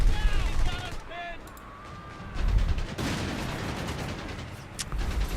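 Machine gun fire and battle effects in Company of Heroes 3, rattling bursts mixed with booms and dense combat noise, with a voice talking briefly over it.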